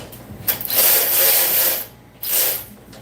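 A ratchet wrench tightens bolts on a Harbor Freight tool, giving two bursts of close, rapid clicking, a longer one and then a short one after a pause, with no talking.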